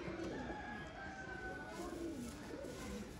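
Breeding pair of pigeons cooing nearby, soft repeated low coos over a faint background hum, no talk.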